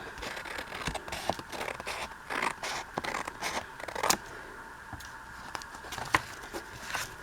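Scissors snip through paper booklet parts in a quiet room, a series of soft, irregular cuts and rustles, each brief and close.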